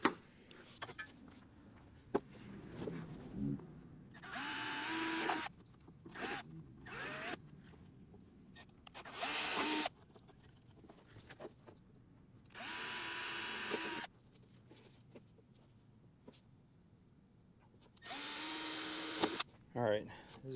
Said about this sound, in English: this is actually pretty easy to drill through. It's just carbon fiber.